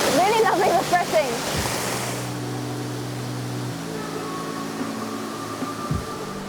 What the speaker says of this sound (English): That is one seriously epic waterfall.